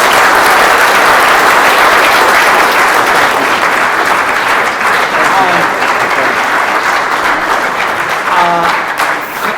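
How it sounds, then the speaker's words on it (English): Sustained audience applause for a discussion panel at a political event, loud and steady clapping filling the room throughout, with a brief voice near the end. "A big round of applause, please, for the panel."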